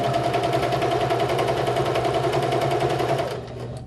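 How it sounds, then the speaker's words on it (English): A sewing machine runs steadily at a fast, even stitch, sewing straight across the end of rickrack and lace, then slows and stops near the end. "I'm just going to sew right across the end on this particular one"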